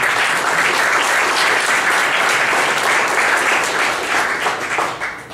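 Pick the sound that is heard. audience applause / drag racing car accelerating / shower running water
audience applause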